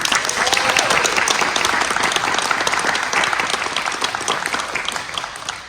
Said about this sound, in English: Can we get a round of applause for our faculty?